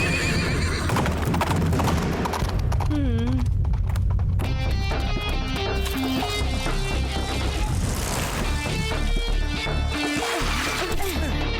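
Galloping wild horse in a Tamil action cartoon, steady clip-clop hoofbeats with a whinny, loud and continuous under dramatic music.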